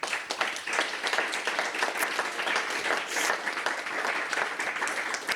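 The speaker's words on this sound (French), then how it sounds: "je propose à l'Assemblée de procéder par acclamation" Audience at a Red Cross general assembly in Geneva claps steadily, a dense, even round of applause from a large room filling the whole moment.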